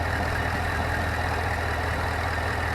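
A Jeep Wrangler with a 6.2 litre LT V8 idles steadily up close, a dense, even rumble with a fine ticking from the direct injectors running through it, giving it a diesel-like clatter.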